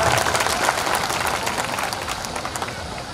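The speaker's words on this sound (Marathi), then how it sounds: "सर्वांनी टाळ्या वाजवून स्वागत करूया" An audience at a devotional gathering applauds in welcome after an honoree is introduced, a dense, steady patter of many hands that eases slightly toward the end, with no talk over it.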